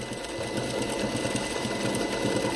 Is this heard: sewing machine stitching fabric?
yes